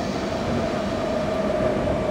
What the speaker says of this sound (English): I'm now idling the power to allow the train to coast.